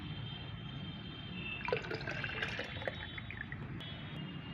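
Homemade tea-leaf liquid fertilizer is strained with plain water, making a soft, steady trickle and splash of liquid that rises for a couple of seconds against a quiet background hiss.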